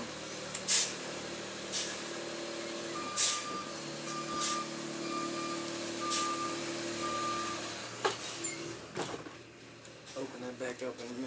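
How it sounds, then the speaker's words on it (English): A big truck maneuvers with its reversing alarm beeping in a regular repeating pattern, engine rumble underneath and a few sharp air hisses, heard close up with someone talking over it at times. "Young men trying to drive a big truck without the right experience."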